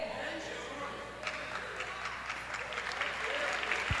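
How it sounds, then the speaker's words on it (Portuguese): A church congregation claps during a worship service, a sustained, moderately quiet patter of many hands, while a voice carries on speaking over the applause. "Você quer aplaudir ao Senhor?"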